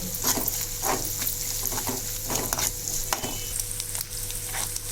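Leftover rice with egg, salt and turmeric stir-fried in a pan, a steady close sizzle with repeated scraping and stirring strokes throughout, no talking.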